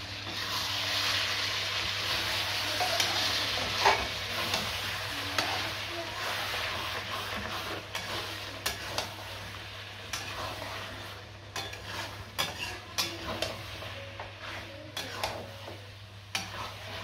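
Chicken curry masala stir-fried in a pan, giving a steady soft sizzle with scraping and stirring clinks of a utensil against the pan, over a low hum.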